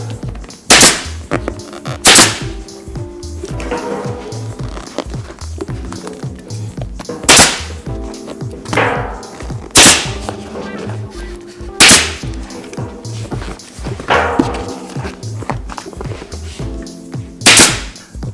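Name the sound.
staple gun stapling motorcycle seat cover into seam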